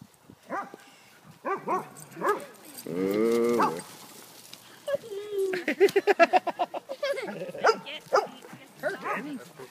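A dog gives a few short barks and yips, interspersed with people talking at moderate volume; a sustained tonal vocal sound sits in the middle.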